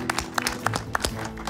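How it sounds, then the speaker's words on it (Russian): A studio game-show audience gives brief, scattered claps, a handful of sharp, fairly faint hand claps over a low background. "Дайте ему аплодисменты."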